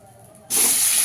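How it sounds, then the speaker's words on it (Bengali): Eggplant slices hit hot oil, left over from frying fish for a Bengali fish curry, and a sudden loud, steady sizzling hiss erupts after a moment of quiet and holds. "এই তেলে আমি একটু বেগুন ভেজে নেব।"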